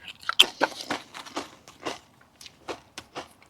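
Close, crisp crunching and chewing of a flame grilled barbecue flavour snack, irregular bites and crackly chews with quiet gaps between them, no talking.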